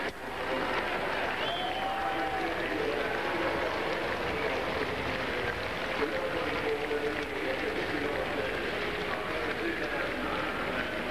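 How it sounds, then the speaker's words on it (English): At Flemington racecourse a large crowd applauds a jockey, with continuous distant clapping and a crowd roar heard under a commentator's voice throughout. "I reckon just about everyone on the course will applaud him"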